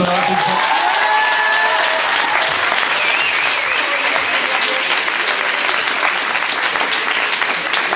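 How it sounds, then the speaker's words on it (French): A large audience at a results announcement breaks into loud, sustained applause lasting several seconds. There are cheers and whistles at the start, and the clapping stays dense and even throughout. "j'aimerais bien que tout le monde les applaudisse, s'il vous plaît"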